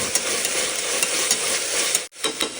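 Ginger garlic paste is stirred in a hot frying pan, giving a bright continuous sizzle with scraping strokes of a spoon, close by, briefly cutting out near the end.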